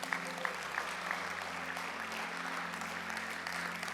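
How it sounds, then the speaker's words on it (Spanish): A church congregation at a Spanish-language worship service claps together in steady, even applause that fills the room at a moderate level with no break. "¿Cómo te dan un fuerte aplauso al Señor?"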